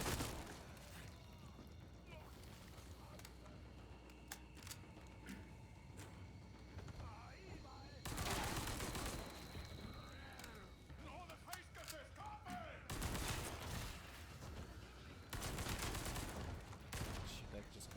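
Gunfire in the Resident Evil 4 Remake video game, a few loud bursts of shots and impacts separated by quieter gameplay stretches, with a player talking over the action.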